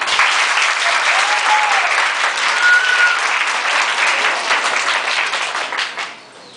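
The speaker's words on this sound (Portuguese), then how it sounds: "Queria pedir a vocês uma salva de palmas para ele." A live audience claps steadily and loudly for a performer after a staged re-enactment, a dense, even wash of many hands that holds for several seconds before thinning out at the end.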